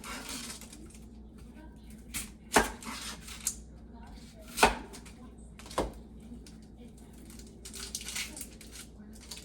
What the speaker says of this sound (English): We're just gonna julienne the Spanish onion.